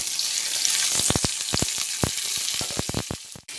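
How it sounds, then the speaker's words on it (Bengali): Pointed gourd, papaya and potatoes frying in oil, a steady sizzle broken by a run of sharp scraping stir strokes, close and loud, no voices. "দিয়ে ভালোভাবে আমি মিশিয়ে নিচ্ছি তেলের সঙ্গে"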